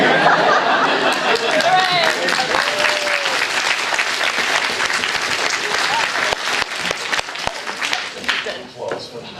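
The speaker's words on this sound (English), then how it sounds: "Applause for that." A convention crowd at a Q&A panel claps loudly and continuously, with chatter and scattered laughter mixed in, and voices talking beneath the applause as it tapers off.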